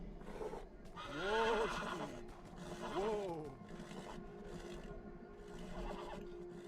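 A horse in the video game Beyond: Two Souls whinnies twice in long, wavering neighs, then gives a softer third call. Hoof clip-clops and faint ambient noise run underneath.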